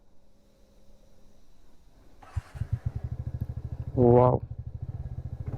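A TVS NTORQ 125 Race Edition scooter starts and settles into a close, steady putter, with one short louder rev midway, and a voice briefly exclaims over it.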